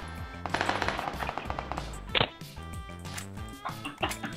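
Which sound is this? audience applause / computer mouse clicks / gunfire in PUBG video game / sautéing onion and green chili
gunfire in PUBG video game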